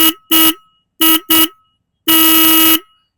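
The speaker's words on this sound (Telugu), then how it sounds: "మీకు హారన్ అయితే మరీ అంత లౌడ్ ఏం లేదు ఒకసారి వినండి" A Royal Enfield motorcycle's electric horn sounds alone and close: four short, evenly spaced beeps followed by one long sustained blast, with a steady buzzy tone and silence between presses.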